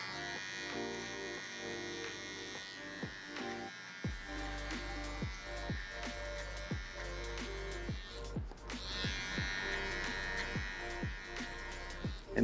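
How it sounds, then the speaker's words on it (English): A cordless hair detailer trimmer buzzes continuously at close range, cutting hair short during a fade, its steady electric whine dipping and shifting as it is pressed and moved through the hair. "And then grabbing my cordless detailer LI and getting it as short as possible."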